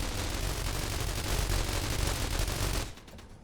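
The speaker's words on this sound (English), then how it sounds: "That they would try to shoot them through the fence." In The Walking Trade, enemies shoot through a fence during a raid. The result is a dense, continuous barrage of overlapping gunshots at steady loudness that cuts off sharply near the end.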